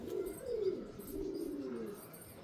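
A pet pigeon coos close by, with a few soft, low, rolling notes in a slow, drawn-out rhythm and no talking.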